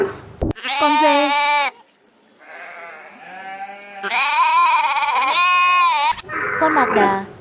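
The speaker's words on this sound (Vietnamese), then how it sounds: "con dê," A goat bleats loudly and close up in several long, wavering, nasal calls separated by brief pauses, with no other sounds around it.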